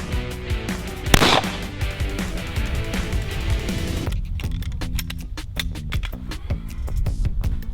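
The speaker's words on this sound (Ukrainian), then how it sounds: "Постріл!" A single sharp Glock 17 pistol shot cracks out close by early on, fired at a ballistic test target from 8 metres, followed by rustling and clattering noises.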